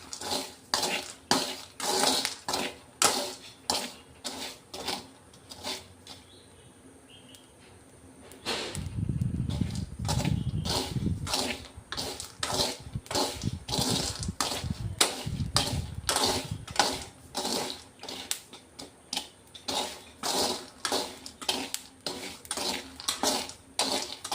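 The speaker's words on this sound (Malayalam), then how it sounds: "നമ്മുടെ കടല പൊട്ടി തുടങ്ങി." Dry chickpeas roasting in a pan over a high flame, crackling and popping in dense, rapid bursts with a louder sizzling stretch partway through.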